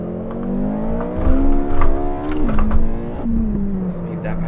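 Porsche race car engine in the Assetto Corsa racing game, a steady loud drone that rises and falls in pitch through a corner, with someone talking over it.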